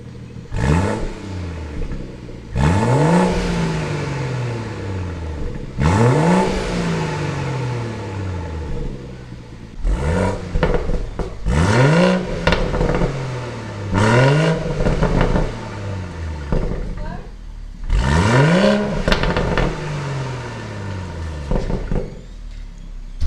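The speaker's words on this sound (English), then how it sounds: "I'm gonna give it a couple revs in comfort mode, then I'm gonna switch to sport mode" A BMW M240i fitted with a Dinan midpipe is revved repeatedly from a cold start: about seven sharp, loud blips, each climbing and then dropping back to idle, spaced a few seconds apart.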